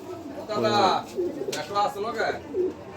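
A very large pigeon coos in a few soft, rolling bursts, close by, with someone talking over it.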